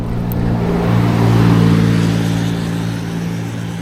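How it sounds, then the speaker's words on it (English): Blaupunkt electric bike motor whining steadily while climbing a hill at about 12 mph in fourth gear, a continuous close hum with faint road noise. "You definitely hear the motor, it's whining."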